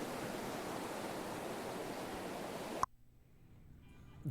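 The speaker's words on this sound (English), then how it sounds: "Is that a white noise machine?" A white noise machine plays a steady, even hiss of broadband noise for a few seconds, then cuts off abruptly to near silence.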